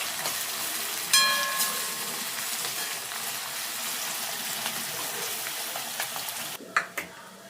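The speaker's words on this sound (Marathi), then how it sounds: "आणि कट केलेला कांदा घालून घेऊया. एकदम हाय फ्लेमवर ह्याला परतून घ्यायचं." Chopped onion frying over a high flame gives a steady broadband sizzle with clinks of utensils, near and fairly loud, changing briefly near the end.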